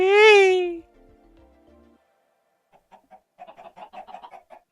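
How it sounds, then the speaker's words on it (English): A loud rooster-like squawk from Minecraft chickens opens, followed by faint low clucks and a run of soft, quick chatter-like bird sounds at a distance. "Parachute made of chickens."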